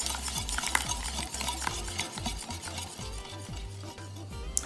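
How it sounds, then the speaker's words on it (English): Melted unsalted butter being stirred into pancake batter in a bowl, with a steady repeated rhythm of utensil strokes and soft wet scraping, close and moderately quiet. "And I'm just gonna stir it in."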